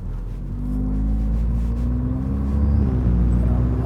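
Audi S3 accelerating under full throttle, a steady low engine drone that rises gradually in pitch, heard from inside the car with no talking.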